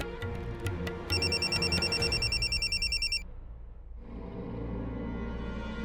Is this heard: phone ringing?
yes